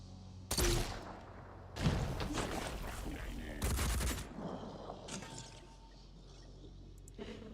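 Bombs dropped in a video game land as three loud, booming impacts spaced a second or two apart, each followed by rumbling debris and softer clatter under faint game sounds.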